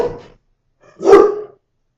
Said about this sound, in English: The mailman's here. The dogs go crazy.